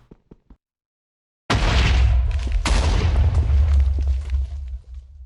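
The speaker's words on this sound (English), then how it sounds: "So we can make explosions and it doesn't destroy anything." A loud Minecraft explosion booms after a few quiet clicks, a broad rumbling blast with a second burst about a second later that fades out slowly.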